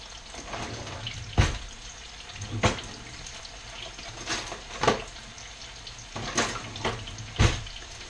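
French fries frying in hot oil for fish and chips, a steady bubbling sizzle broken by several sharp, loud pops and crackles at irregular intervals, heard close with no talking.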